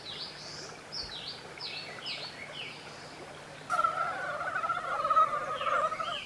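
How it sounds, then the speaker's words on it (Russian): Spring frogs in the Far Eastern taiga, just out of their wintering pits, burst into a loud, pulsing chorus midway, after a few bird chirps over a quiet background. No one speaks. "Лягушки, торопливо покинув зимовальные ямы, азартно и громко учиняют настоящую оргию."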